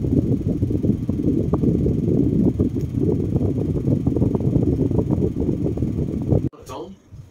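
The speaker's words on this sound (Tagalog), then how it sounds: "kasi nga tuwing gabi lang kami nagbubukas ng aircon, so sobrang lakas talaga ng ingay" An Everest air conditioner unit runs loudly with a constant droning rumble and some rattly texture. The noise stops abruptly near the end, followed by a brief faint sweep.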